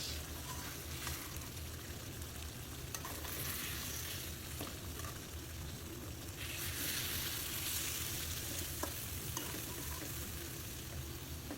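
Rohu fish pieces sizzle and fry with spices in a pan over a low flame, giving a continuous soft crackling hiss with occasional stirring scrapes, moderately quiet and with no voices.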